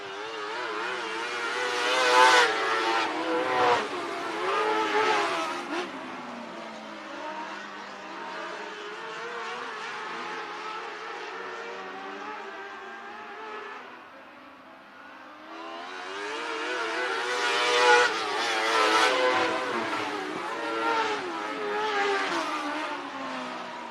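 Race cars run a heat on the Marion County Speedway bullring, a loud multi-engine roar swelling as the pack passes, fading to a distant drone, then rising again as it comes round.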